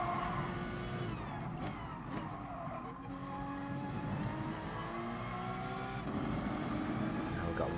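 A race car's engine drones and shifts gears in a racing video game, steady loud engine tone with tire skids and squeals throughout, while a person talks over it.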